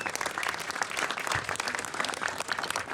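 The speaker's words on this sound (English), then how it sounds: "Big round of applause for her." Crowd claps at an outdoor rally in San Francisco, moderately loud and somewhat distant, a brisk steady patter of many hands throughout.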